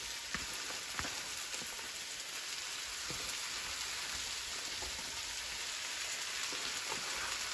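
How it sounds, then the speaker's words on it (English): Vegetables going into a pot on a stovetop, followed by a steady hiss and light sizzle with a few faint knocks, close and fairly quiet with no talking. "So now I'm gonna put my vegetable in."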